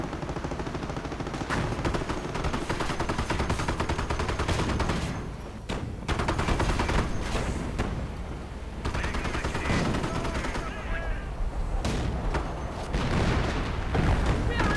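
Mortar rounds and artillery fire in a strategy war game come as dense, continuous bursts of gunfire and heavy booms, loud throughout with brief lulls.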